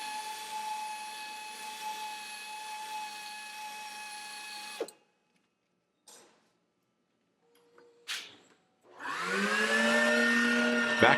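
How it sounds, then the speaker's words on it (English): A 2500 RPM low-speed buffer with a buffing rasp working a truck tire inner liner: a steady high whine runs several seconds, cuts off with a few short bursts, then spins back up loud with rising pitch. "Use a 2500 RPM low-speed buffer and a buffing rasp to buff the inner liner"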